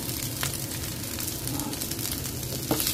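Spam sizzling in a hot pan for garlic fried rice, a steady close crackle and hiss running throughout with a few sharper pops, no talking.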